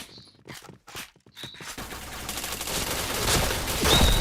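Gunfire rings out in a Point Blank shooter match: a few separate sharp shots at first, then a dense, building barrage of automatic fire with no talking.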